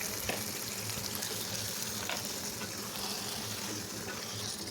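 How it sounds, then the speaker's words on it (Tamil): Marinated chicken sizzles and crackles in a clay pot of tempered spices while cooking a quick spicy chicken gravy, a continuous close frying hiss with faint stirring scrapes throughout. "இப்போது நம்ம மேரினேட் பண்ணி வச்சுருக்கிற சிக்கனை ஆட் பண்ணிக்கலாம்."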